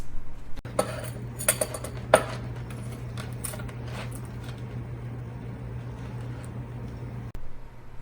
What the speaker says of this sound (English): Let me cut myself a slice.